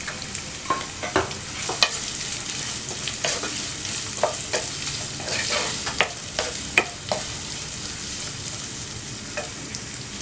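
Onions sizzle and crackle steadily in a hot pan while cooking a mutton brain fry, with repeated scraping clicks of a spoon stirring them throughout.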